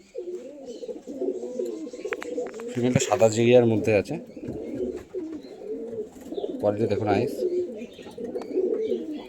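Pigeons coo in a home loft where breeding pairs are kept for sale, the soft low cooing running under steady talk from a man showing the birds.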